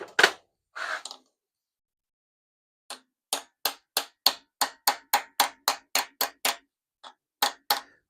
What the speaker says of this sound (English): I'm just thwacking a Torx 20 bit into it in the hope.